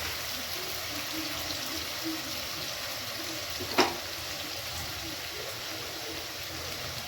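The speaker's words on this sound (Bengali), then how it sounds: "এখানে পেঁয়াজ কুচি বেশি ভাজা হবে না, লাল লাল করে হালকা ব্রাউন হলেই আমি রসুন কুচি, আদা কুচি দিয়ে দেবো" Chopped onions fry in a pan with a steady, soft sizzle and hiss throughout, a brief sharp click partway through, no voices.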